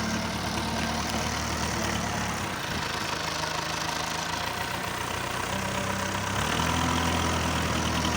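Excavator engine works on levelling crushed stone for a road, a steady close diesel rumble with a brief dip and a rise in load near the end, no voices.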